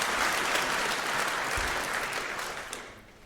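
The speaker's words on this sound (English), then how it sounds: "let's give a round of applause for the heralds and the angels" An audience at a hacker congress talk claps for the heralds and angels, loud dense applause that holds steady, then thins and fades near the end.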